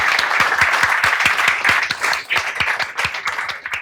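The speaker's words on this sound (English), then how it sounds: "if I could ask you to join me in a round of applause" Close, crisp applause from a small audience at a fintech showcase, individual claps sharply distinct in a fairly even rhythm that thins slightly toward the end.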